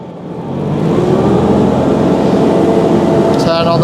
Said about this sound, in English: Okay, then we're going to rev her up.